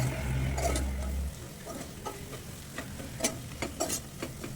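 Chili powder and turmeric frying in a pan for paneer masala curry, a soft steady sizzle with scattered stirring scrapes and clicks, low hum in the first second, no talk.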